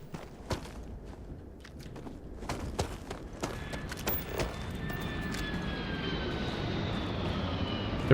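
Spaceship landing in the Starfield video game, a rising engine drone with a thin whine that grows steadily louder, mixed with clattering mechanical clicks and thumps.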